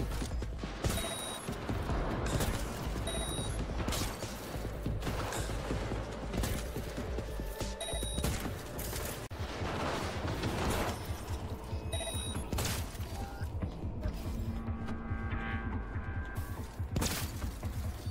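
Rapid turret gunfire in Cyberpunk 2077 during a shootout, steady mechanical rattling with periodic creaks, electronic beeps and booms, fairly quiet and continuous.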